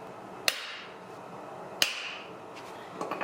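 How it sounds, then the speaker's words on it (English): A small hammer taps a vintage Suzuki T500 two-stroke motorcycle crankshaft to true it, giving two sharp metallic strikes with ringing decay, then lighter quick taps near the end, close and alone. "I'm even going to use a smaller hammer this time."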